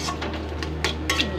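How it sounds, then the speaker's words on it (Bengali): A utensil stirs spices and potato in a cooking pan, giving a few soft scrapes and light metallic clinks in quick succession, close and fairly quiet. "সব দিয়ে ভালো করে নাড়াচাড়া করে নেব।"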